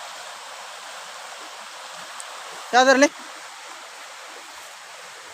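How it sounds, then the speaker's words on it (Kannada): A stream flows near a village house, giving a faint, steady rushing wash throughout, briefly interrupted by a short spoken word. "ನೋಡಿ ಇಲ್ಲಿ ನಮ್ಮ ಮನೆ ಹತ್ರ ಒಂದು ಹೊಳೆ ಕೂಡ ಇದೆ."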